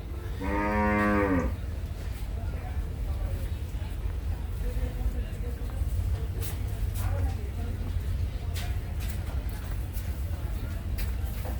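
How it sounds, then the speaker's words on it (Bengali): Cattle at the Gabtali livestock market, where cows and goats are kept, give one loud, clear moo near the start, followed by the market's steady crowd murmur and background hubbub. "গরু রয়েছে ছাগল রয়েছে"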